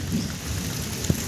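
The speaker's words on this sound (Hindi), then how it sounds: "देखिए सब बारिश में भीग रहा है" Heavy rain with thunder falls over farmland where wheat and mahua lie soaked, as a constant loud rain hiss with a brief low thunder thump near the end, and no one speaks.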